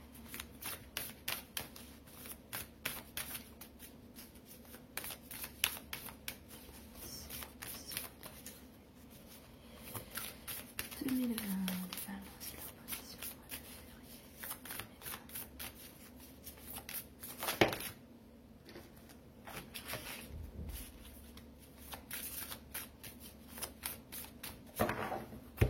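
Tarot cards being shuffled by hand, close and repeated riffling and sliding in irregular bursts, with brief pauses and a few soft taps on the table.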